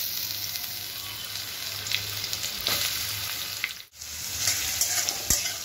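Four or five large onions, sliced lengthwise, fry in a pan with a steady, close, even sizzle that briefly drops out for a moment before resuming, with a sharp click near the end.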